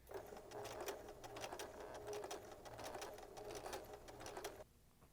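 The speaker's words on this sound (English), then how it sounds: "I'm going to go ahead and stitch right in between that seam there using a regular stitch" A sewing machine runs steadily with a regular stitch along a seam of a fabric neck wrap, its rapid mechanical clatter fairly quiet and close, stopping abruptly near the end.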